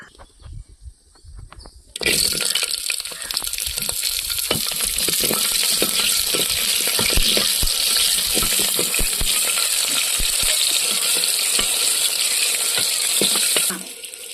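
Small shallots, about fifty grams, drop into heated oil and sauté with a loud, steady, close sizzle that starts abruptly and holds for about twelve seconds before easing off.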